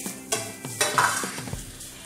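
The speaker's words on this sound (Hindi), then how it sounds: "पनीर को भी ऐसे ही थोड़ा सा भून के लेना है।" Paneer roasting in a pan, several quick scraping and tapping spatula strokes over a light sizzle, close and moderately loud.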